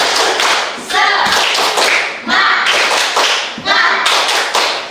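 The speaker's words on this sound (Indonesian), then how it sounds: "Oke, tepuk semangat." Classroom of students doing a rhythmic spirit clap in unison, sharp grouped claps in a patterned beat with short pauses between phrases, loud and close, with shouted voices joining between the clap bursts.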